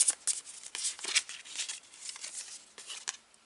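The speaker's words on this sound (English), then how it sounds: "You see, I'm shuffling in front of the camera." Tarot cards are shuffled by hand close up, a run of quick crisp riffling and flicking bursts in an uneven rhythm, soft and alone.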